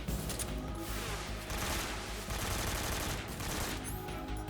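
AK rifle fire in Metal Gear Solid 3 during the Ocelot and The Pain boss fight, rapid bursts of gunfire rattling continuously at moderate level, with brief pauses between volleys.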